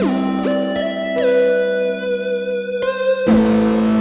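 A buzzy synthesized tone from a Gamechanger Audio Motor Synth pedal, produced by spinning motors, steps between sustained pitches, with sharp jumps and a drop to a lower note near the end.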